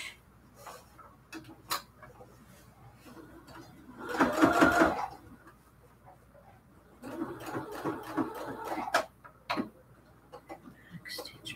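A sewing machine backstitches a cathedral window quilt pillow case in two short bursts of rapid stitching, near and moderately loud, separated by quieter handling and clicks.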